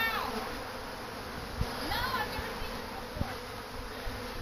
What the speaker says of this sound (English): I've got a swarm coming into my box right now.